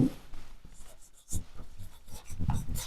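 Chalk or marker scratching across a classroom board during a physics lesson on gravity, a steady run of soft rubbing strokes and taps at close range with brief pauses.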